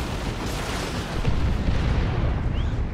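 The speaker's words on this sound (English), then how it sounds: "And more explosions back there. That was the Katachans with their grenade launcher." Continuous rumbling blasts from Catachan grenade launchers in a Dawn of War 2 Warhammer 40k battle, dense overlapping explosions with a heavier booming burst midway, no speech over them.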